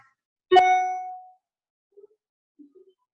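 A single bright electronic notification chime rings once and rings out, with a few faint soft clicks afterward in an otherwise quiet room.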